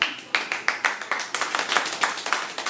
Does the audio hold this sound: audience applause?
yes